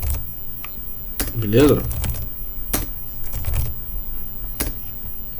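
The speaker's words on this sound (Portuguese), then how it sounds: "estou digitando aqui" Keys tapped on a computer keyboard while entering text in a Linux editor: a few sharp, separated keystrokes over a steady background hum, with someone briefly speaking partway through.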